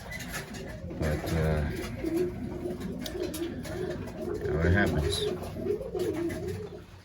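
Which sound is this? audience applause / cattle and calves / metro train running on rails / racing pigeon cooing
racing pigeon cooing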